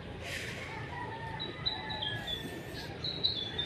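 Several small birds chirp with thin high calls over steady outdoor ambience, some tweets close and others farther off, at moderate loudness with no talk.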